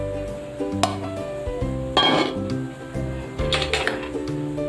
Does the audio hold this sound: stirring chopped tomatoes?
yes